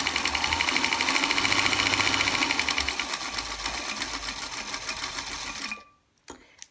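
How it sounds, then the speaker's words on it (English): A sewing machine runs steadily, stitching the seam of a quilt block with a loud, fast, even mechanical whir that stops abruptly near the end, leaving silence and a faint click. "I just pull it out a little bit, flip it around, line it up again, and sew down the other side"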